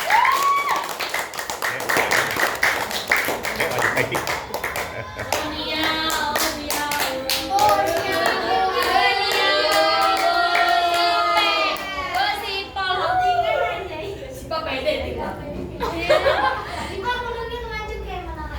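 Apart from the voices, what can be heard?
audience clapping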